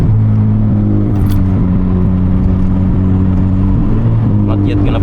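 Steady low hum of a Honda Civic FD1 eighth-generation R18 engine on the move, with cabin road noise and a brief light rattle or jingle.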